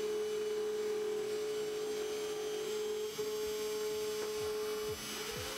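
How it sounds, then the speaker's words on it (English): An X-Carve CNC mill carving, its spindle giving a steady high whine over a faint motor hum, with soft cutting scrapes and brief clicks near the end, fairly quiet and without talk. "And now the machine will start carving away."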